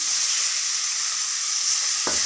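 Tomato mixture for egg curry fries steadily in a pan, a constant bright hiss throughout with a brief stirring scrape near the end, no talking.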